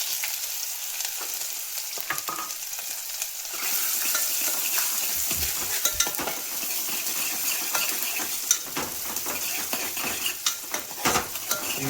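Onions hit hot oil with cumin in a pan and sizzle loudly, a dense crackling fry punctuated by spoon scrapes and clinks against the pan, with no voices.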